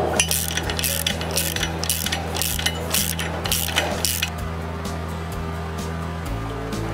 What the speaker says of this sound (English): this unit slides into place here, and we tighten using these bolts.